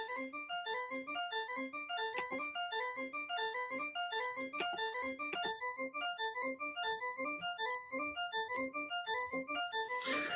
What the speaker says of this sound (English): The sound is the MCO. It's just in this really basic additive, like it's like an organ, church organ kind of vibe.